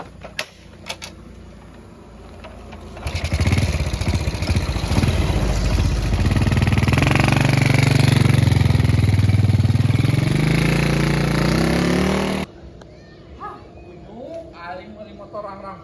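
A motorcycle engine starts up and runs loudly for about nine seconds with a throbbing, uneven mid-low rumble, then cuts off abruptly, followed by quieter background noise and faint voices.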